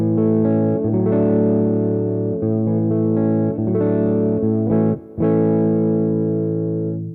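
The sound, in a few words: electric guitar through Katana Gen 3 combo clean channel, no pedal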